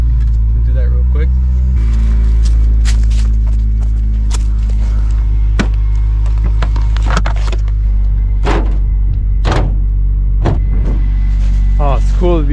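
A right-hand-drive Honda Integra revived with junkyard Honda CR-V and Prelude parts idles and rolls under its own power, with a low steady engine drone, clunks and brief mechanical sounds close by, while someone talks over it.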